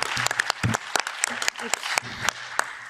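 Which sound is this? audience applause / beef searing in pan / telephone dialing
audience applause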